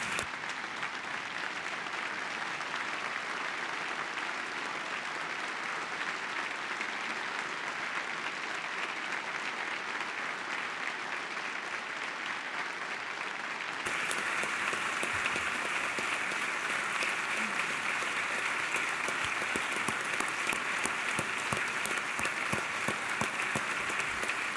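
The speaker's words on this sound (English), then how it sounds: "Will you please join me in applauding their bravery?" A large audience at the Georgia governor's 2025 State of the State address applauds first responders, a sustained dense roar of clapping that swells louder partway through and continues without a break.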